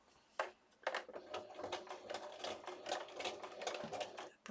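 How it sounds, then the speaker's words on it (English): A sewing machine runs steadily while winding a bobbin, its fast, even mechanical whir continuing for several seconds after a brief start-up pause, close and moderately loud with no talking. "I'm not sewing, I'm doing a bobbin"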